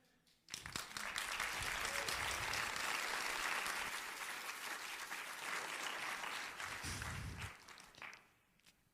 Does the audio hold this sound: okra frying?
no